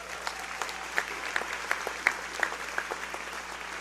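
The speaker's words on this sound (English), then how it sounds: "You clap for that, right?" Audience applauding at a 2025 high school commencement ceremony, a steady patter of many hands clapping at moderate distance with a few sharper claps standing out, no talk over it.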